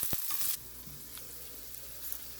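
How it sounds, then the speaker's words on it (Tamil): Green chillies sautéing in a pan give a soft, steady sizzle and frying crackle, with a short louder stirring clatter at the start, heard alone without talk. "பச்சை மிளகாய், நல்லா வதங்கட்டும்"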